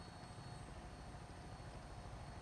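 Steady, close helicopter rotor drone in the video game Fallout 4, a continuous loud whir and low thump throughout with no talking.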